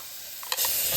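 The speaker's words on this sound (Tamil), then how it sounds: "தக்காளி சேர்த்துடலாம். இந்த தக்காளி வதக்கி விட்டுறலாம்." Tomatoes sizzle in hot oil inside a small pressure cooker, a steady hiss that swells loudly halfway through as they hit the pan, then keeps frying.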